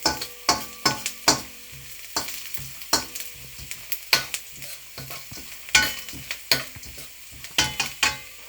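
Crushed red chilli fries in ghee for chicken chilli, heard as a steady sizzle broken by many sharp, rhythmic scraping knocks of a utensil against the pan, close up.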